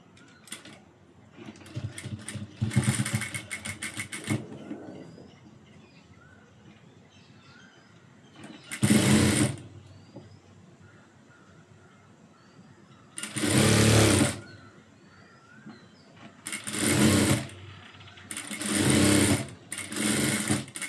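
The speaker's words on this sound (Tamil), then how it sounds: "இப்படியே தையல் போட்டுருவோம்" Sewing machine stitching a blouse piece in several separate bursts, each a loud, rapid mechanical whirr lasting a second or two, with quiet pauses between and faint birdsong behind.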